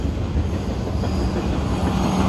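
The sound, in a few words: Norfolk Southern freight train passing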